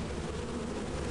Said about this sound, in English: The bees! Not the bees!